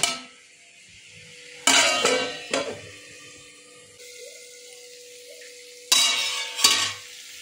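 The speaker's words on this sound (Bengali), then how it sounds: "এই যে মশলা ভাজা হয়ে গেছে, এই যে তেল উপরে তেল এসে গেছে" Spices frying in oil in a pan for a Bengali drumstick, potato and pumpkin curry, with bursts of loud sizzling and stirring scrapes between quieter simmering gaps.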